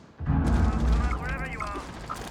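Frag grenade blast in the Rainbow Six video game, a loud, deep boom that hits sharply and then rumbles and decays, with a player's voice talking over the tail.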